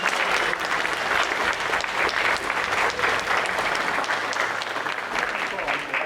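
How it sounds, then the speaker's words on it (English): Audience at a community band concert in Oregon gives a warm round of applause, a full, steady wash of many hands clapping for about six seconds with faint crowd murmur underneath. "Let's give them a little round of applause."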